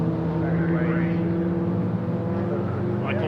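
BMW race cars in a Kumho BMW Championship race at Silverstone sweep past in a group, engines droning with rising and falling pitch as the 2nd- to 5th-placed cars go by.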